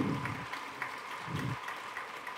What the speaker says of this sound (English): a big hand of applause for every one of you